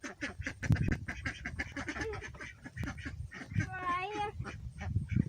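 Ducks on a homestead quack in short nasal bursts amid household clatter and people talking nearby, with a rapid run of calls near the end.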